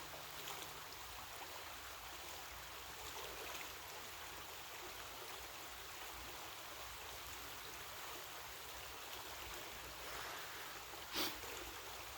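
A creek flowing through a sunny grove of trees, a faint, steady rushing and trickling wash that continues throughout with one brief louder sound near the end.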